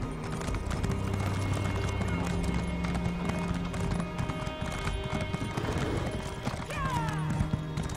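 In The Elder Scrolls Online, a horse's hooves clip-clop in a steady, rapid gallop, mixed with game music tones and occasional faint background sounds.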